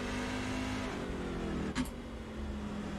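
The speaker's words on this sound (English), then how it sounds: "Downshift to second." Race car at Circuit of the Americas with a steady engine drone that blips sharply near the middle as it downshifts, then settles back to a sustained hum, heard from inside the car.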